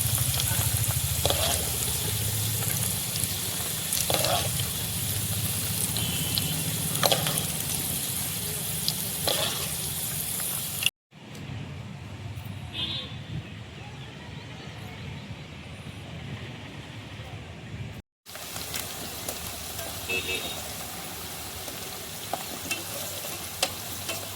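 Ivy gourd (dondakaya) fries in a pan for a Telangana-style garlic chili fry, giving a dense, continuous sizzle with occasional stirring scrapes; the sound breaks off briefly twice.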